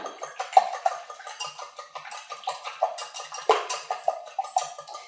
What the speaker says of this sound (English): I have 6 eggs that I'm just going to whisk up here until they're all kind of broken up